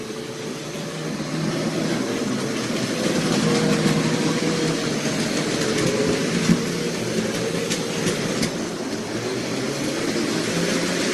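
A small OO gauge model locomotive pulls a heavy train continuously along a track, with a steady mechanical whir and faint clicking, close and moderately loud throughout.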